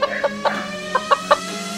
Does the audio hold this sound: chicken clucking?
yes